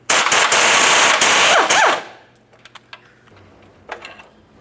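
A bolt on the spare tire carrier and hoist of a 2000-2006 Chevy Tahoe is removed with a 15 mm wrench: a loud, rapid metallic rattling burst lasts about two seconds, followed by a few faint clinks.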